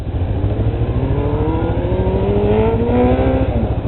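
A neighbor's small Suzuki Katana motorcycle passes by, its engine note rising steadily as it approaches and pulls away, loud and near over a rumbling idle-like drone, with no one talking.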